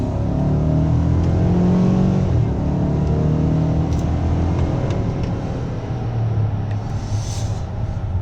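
A 2019 Cadillac Escalade with repaired salvage damage accelerates hard, its engine giving a steady, loud, rising drone with road rumble that holds throughout, without any talk.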